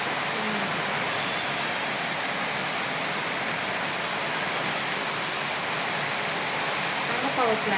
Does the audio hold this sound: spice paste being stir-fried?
no